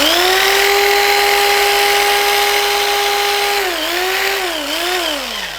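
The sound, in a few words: car radiator fan motor spun as a generator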